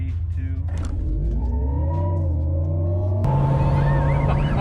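A 2022 Hummer EV electric truck accelerates hard from inside the cabin, with a rising electric motor whine over steady road rumble that steps up in tone partway through.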